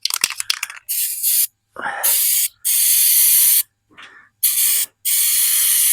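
A paint spray gun hisses in uneven bursts while spraying an old utility trailer, the spray starting and cutting out several times with short gaps, close and loud, after some brief handling clatter.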